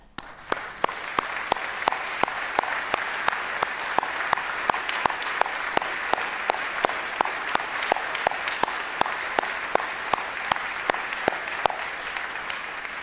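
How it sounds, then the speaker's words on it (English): A seated crowd at a state senator's legislative farewell gives a sustained round of applause, steady dense clapping with a sharp, rhythmic clap or thump repeating about every third of a second over the wash throughout. "So I'd like all 37 of you to stand up so we can all give you a round of applause"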